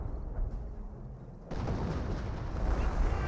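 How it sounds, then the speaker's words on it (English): Muffled booms and rumbling blasts from an M2 artillery barrage in Company of Heroes, quiet at first, then louder and more sustained. "M2 now firing a barrage over here"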